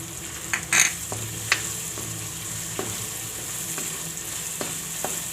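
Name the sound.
chillies and tomatoes frying in pan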